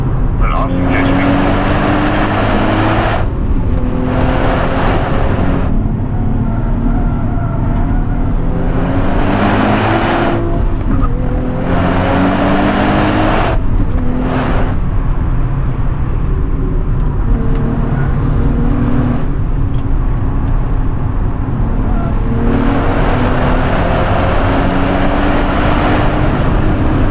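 A 2027 Nissan Z NISMO with a manual gearbox drives hard, its engine loud and close throughout, revs rising and falling through gear changes with a few brief dips.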